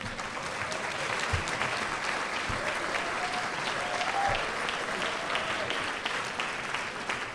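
A banquet hall crowd at a school district retirement dinner claps for retiring employees, a sustained, even round of applause with scattered sharper claps and no talking.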